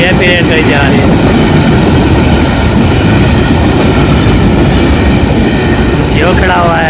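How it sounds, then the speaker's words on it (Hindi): A long passenger train rumbles steadily past at close range, a continuous heavy roll of wheels and carriages with faint squeals at the start and end and no pause throughout. "रेलगाड़ी जा रही है, इतनी बड़ी बड़ी लंबी लंबी गाड़ी"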